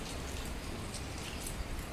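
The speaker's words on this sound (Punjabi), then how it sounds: "ਬਾਹਰ ਹੋ ਰਹੀ ਹੈ ਬਾਰਿਸ਼" Steady rainfall patters outside, a dense, even hiss with soft drops landing throughout, no voices.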